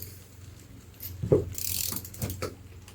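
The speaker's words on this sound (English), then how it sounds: "I've got a torque wrench, and then we're going to tighten down the nut for the strut" A torque wrench clicks and ratchets as a car's front suspension strut nut is tightened to 60 newton meters, with a few sharp close clicks and a brief stretch of rapid ratcheting.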